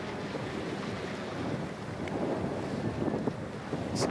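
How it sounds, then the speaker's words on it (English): Gusty wind near 30 km/h buffets the microphone at a seaside cliff diving venue, a steady rushing roar that swells slightly toward the end, with no voices. "Some gusts picking up almost to 30 kilometers per hour again."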